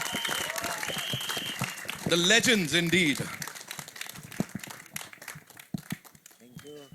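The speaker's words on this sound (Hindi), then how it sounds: "अब्बास मस्तान साहब के लिए जोरदार तालियां." Audience applause breaks out at a film trailer launch event, clapping running under an amplified host's voice and background music, swelling briefly in the middle before thinning into scattered claps.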